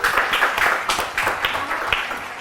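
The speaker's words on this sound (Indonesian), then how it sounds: "beri tepuk tangan dong." Studio audience clapping on an Indonesian talk show, a dense steady patter of hands close to the mics with a few louder bursts, no speech over it.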